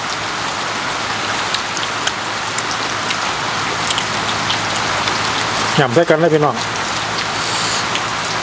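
Steady rain falls outdoors on a rainy day while people sit eating spicy long-bean salad with large white-fleshed apple snails. The dense, even patter lasts the whole clip, and someone speaks briefly near the six-second mark.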